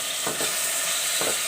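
Keema sizzling in a pan as green chillies go in, a continuous bright frying hiss with two soft bumps of stirring.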